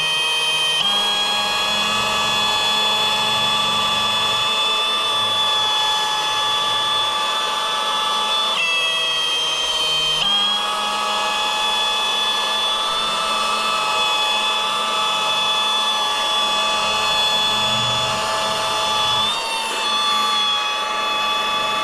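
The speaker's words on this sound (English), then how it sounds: "I just gave the whole thing a quick run over with the Cut Max and the 3M green pad" A machine polisher with Cut Max compound on a 3M green pad buffs ceramic-coated car paint, giving a continuous close high motor whine with faint dips in pitch as pressure changes, with no voices.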